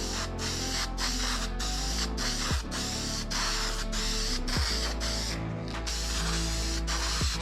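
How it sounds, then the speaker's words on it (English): Aerosol spray can nozzle releasing tint onto car headlights, a steady broadband hiss running continuously with brief pauses between short bursts, close and fairly loud with no talking. "Spray it just to make sure my nozzle's spraying good."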